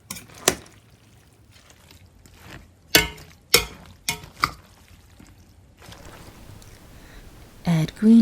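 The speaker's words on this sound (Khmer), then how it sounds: "Add the cabbage, then stir to combine." Napa cabbage stirred into a kimchi seasoning mixture, with sharp clacks and knocks of utensils against a bowl at irregular intervals and soft wet mixing sounds between, close and clear, with no talk.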